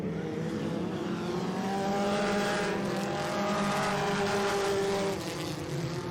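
Stock cars racing at Le RPM Speedway in a NASCAR weekly series event, engines droning loudly and swelling as cars pass close, a steady roar building midway and then easing.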